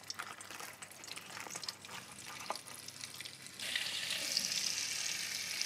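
Butter goes into hot white oil for an egg butter masala, starting as a soft crackling fry and then swelling into a louder, steady, close sizzle partway through, with no talking.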